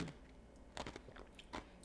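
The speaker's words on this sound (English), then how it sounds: "kind of like the crunch of the ice" Ice crunching in a Paloma cocktail gives a few sharp, close crunches at the start, middle and end of the short, quiet moment, with no talk.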